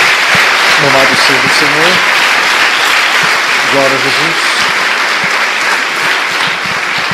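A church congregation claps in loud, sustained applause throughout, while a voice calls out praise over the clapping.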